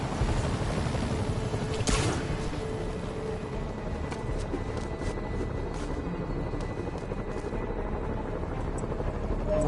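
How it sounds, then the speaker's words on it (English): Helicopters in a Spider-Man game fly over the city with a loud, continuous rotor thump and rumble, joined by brief bursts of other game sounds. "Bet I can use those helicopters to swing."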